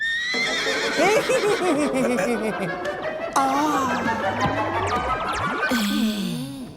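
A voice imitates a horse's whinny with quavering, wavering neighs over noisy background chatter, loud and close.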